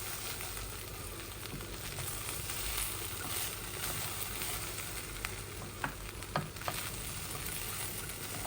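Rice grains frying in a pan for chicken biryani, a steady close sizzle and crackle that runs the whole time, with a few sharper stirring clicks near the end.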